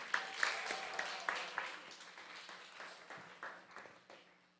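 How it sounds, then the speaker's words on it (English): Light, scattered hand clapping from a small temple gathering honoring a child, a dozen or so distinct claps that are faint and fade out toward the end. "Give a round of applause to Ava."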